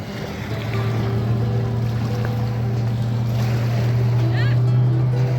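A speedboat motor drones steadily across a dam lake in Patratu Valley near Ranchi, with a low constant hum, water and wind noise, and faint voices in the background.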